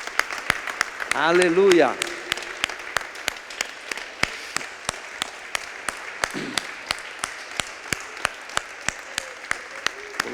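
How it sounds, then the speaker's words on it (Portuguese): A church congregation at a Thursday evening service claps for Jesus, a run of sharp, evenly spaced claps that sounds sparse and close, with a voice calling out near the start and brief talk mixed in. "Vamos dar uma salva de palmas para Jesus?"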